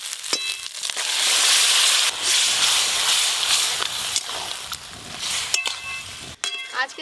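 Spices sizzling in a pan as tempering goes in for a vegetarian pui shak ghonto, a loud hissing burst that swells then settles, broken by a few metallic clinks and taps.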